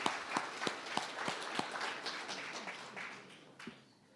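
An audience at a central bank monetary policy statement event applauds the governor, with distinct sharp claps in a fairly regular rhythm over broad crowd clapping that gradually fades toward the end.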